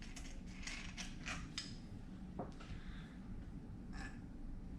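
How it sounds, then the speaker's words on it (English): A nut is spun off the cartridge rod of an Öhlins fork from a Ducati superbike. It makes quiet, quick metallic clicks and whirring bursts, close by, against a low background hum. "Spin the nut off."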